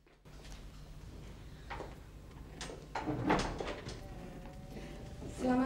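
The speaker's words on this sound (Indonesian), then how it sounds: "dari suara pintu mobilnya" A car door shuts outside a bungalow, a single muffled thump among scattered knocks and faint background noise, heard at a moderate distance.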